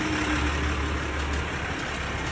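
A tractor engine runs steadily while the tractor steers itself on autopilot, giving off a continuous low rumble with a faint tonal hum. It stays close and even throughout, with no talk over it.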